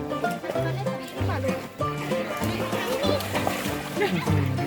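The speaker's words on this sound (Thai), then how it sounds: "บรรยากาศคนเล่นน้ำ" People splashing and playing in a canal behind a cafe camp, with repeated splashes and sloshing water mixed with lively chatter and children's voices nearby.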